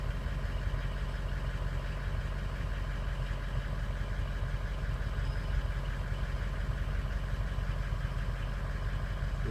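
A 2003 Ford 6.0 Powerstroke diesel engine idles evenly, a steady low rumble and clatter that holds unchanged throughout, close by with no talking.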